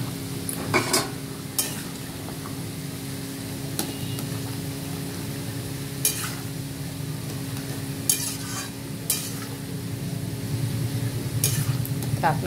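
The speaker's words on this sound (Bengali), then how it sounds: "এটা আমি ফুটিয়ে নেবো এরকম নাড়তে নাড়তে" Chili chicken with green chillies and spring onion is stirred in a pan over a low sizzle, with a spatula scraping and clacking against the metal at irregular intervals, close and fairly quiet.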